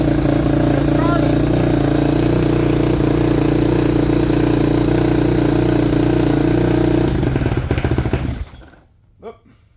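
A 20-year-old Yamaha YZ450 dirt bike engine running steadily at a loud close idle, a constant throbbing drone, before sputtering and dying out near the end.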